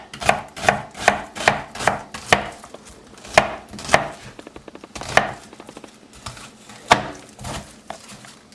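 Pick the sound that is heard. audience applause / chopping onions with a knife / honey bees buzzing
chopping onions with a knife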